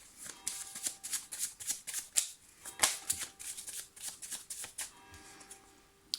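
Petit Lenormand cards being shuffled for a tarot reading, a steady run of soft papery riffles and flicks repeating close by for several seconds with no talking.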